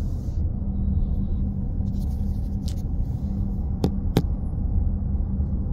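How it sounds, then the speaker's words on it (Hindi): Car interior on the foggy Salwa to Khobar highway in Saudi Arabia, moving slowly at about 40 km/h: a steady low road rumble and engine hum throughout, with two brief sharp clicks near the end. "मैं अभी गाड़ी में बैठा हूँ, गाड़ी चला रहा हूँ"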